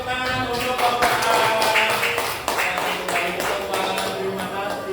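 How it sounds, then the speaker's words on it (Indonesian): Classroom applause for a student group, a burst of clapping from a room of pupils lasting a few seconds, mixed with voices. "Kita kasih tepuk tangan untuk kelompok A."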